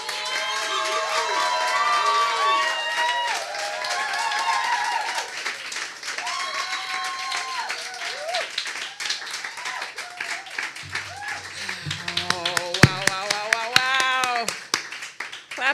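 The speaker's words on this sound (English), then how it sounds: "Let's give all of these stunning works of art by M3's 5th cohort a big round of applause." An audience at an awards ceremony and artwork premiere applauds and cheers, with sustained clapping running under music and voices for the whole stretch, louder in places.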